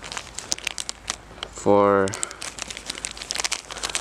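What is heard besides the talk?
crinkling plastic bag holding a hand-crank radio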